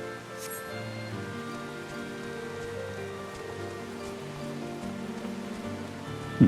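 Steady rain falling on surfaces in the video game Final Fantasy XIV, a continuous soft patter heard close and alone with faint tonal background music.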